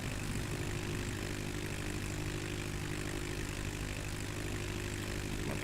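Small propeller airplane on its takeoff run, a steady droning engine and propeller buzz held at constant loudness, close and continuous with no talk.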